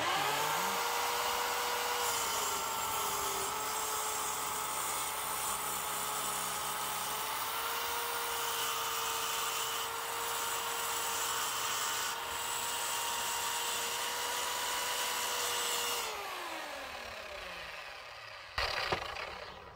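A Parkside PZKS 2000 miter saw whines steadily through an aluminium profile for about fifteen seconds, then spins down, followed by a brief clack near the end.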